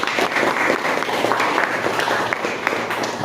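A class of students applauds all the groups in a classroom, a dense, steady patter of many hands clapping close by for the full length, with no talk over it.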